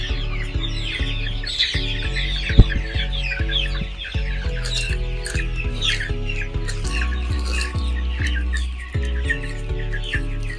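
Poultry birds cluck and squawk continuously in a bird house, a dense overlapping chorus of many birds close by, with no talking.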